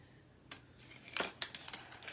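A pair of scissors snips through garland string up close, with a few quick, crisp cuts in a quiet room and no talking.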